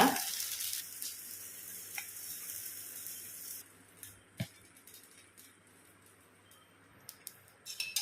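Rice-flour-coated fish frying in oil with a bright hiss that fades after a few seconds, leaving a softer sizzle broken by scattered clicks and pops, with no voices.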